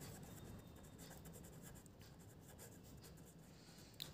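Faint, continuous scratching of writing on a board during a class-six algebra lesson, with a small tap near the end and no voice over it.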